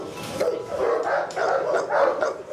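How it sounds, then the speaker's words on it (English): Several dogs bark at a neighbouring property in a run of quick, overlapping yips and barks, moderately close and lasting under three seconds. "For Colin, it wasn't just the noise of the dogs that was clearly a problem."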